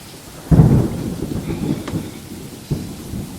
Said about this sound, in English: The storm begins.